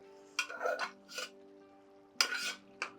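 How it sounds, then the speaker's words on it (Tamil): Scraping, clinking bursts of a spoon stirring tomato bele bath rice in a cooking pot: several short strokes, then a pause, then a couple more, close by and moderately quiet. "இப்போ நல்ல ஒரு கலக்கலை கொடுங்க"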